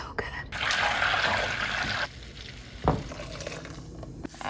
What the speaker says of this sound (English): Browning butter.